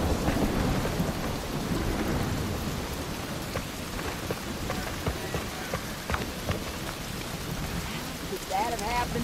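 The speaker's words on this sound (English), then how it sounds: "Yeah, I could do without the rain." Heavy rain pours continuously on surfaces in a Desperados 3 video game thunderstorm, with low rumbling thunder underneath and faint character voices in the background.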